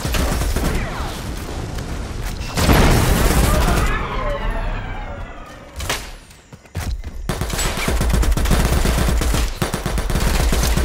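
Gunfire in the Predator video game, loud rapid bursts of automatic fire with booming impacts and a brief lull midway, continuing heavily to the end.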